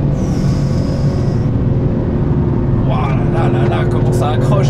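A 2026 Porsche 911 Turbo S runs at speed on the fast section of a circuit, its engine giving a loud, steady low drone, with a voice talking over it near the end.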